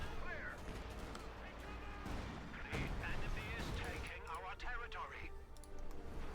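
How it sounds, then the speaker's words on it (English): Howitzer artillery fire in Company of Heroes 2, several heavy booming blasts and crashing impacts layered with scattered gunfire, sounding under excited commentary voices throughout. "He killed his own Panzerjägers with a howitzer"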